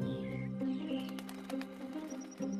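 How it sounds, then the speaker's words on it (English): Medium ground finch song played back through a loudspeaker: a few quiet, thin chirping notes over faint background tones, with no voices. "Whereas the medium ground finch sounds very much like this."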